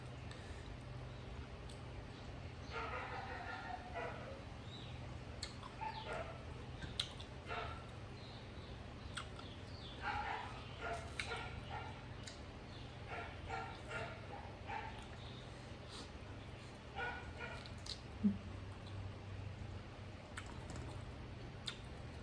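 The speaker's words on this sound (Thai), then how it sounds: "มาก็เห่าค่ะ" A dog barks in short scattered bursts at a moderate distance amid soft clicking and faint household background, with someone speaking quietly at times.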